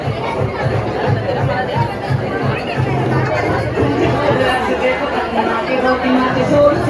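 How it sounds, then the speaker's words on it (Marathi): Dense crowd chatter fills a birthday party at the Orchid banquet hall, a steady close babble of many voices with no pauses, loud throughout. "बघताय ना किती गर्दी आहे."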